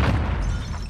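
Frag grenade blast in Call of Duty: Modern Warfare, a dense low booming rumble that fills the whole second at steady loudness with no voices.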